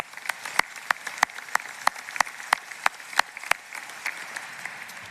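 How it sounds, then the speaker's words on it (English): Applause for a cappella singers at a graduate commencement ceremony, sounding as sparse, distinct individual claps spaced at a steady rhythm rather than a full crowd, fairly faint and with no talking. "And how about another round of applause for our amazing a cappella singers?"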